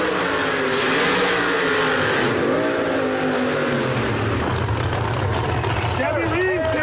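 Drag race cars, Chevy Reeves' Chevelle against Mike Bowman at a no-prep Outlaw 32 event, roar loud and sustained as engines rev and sweep past, under an announcer's commentary.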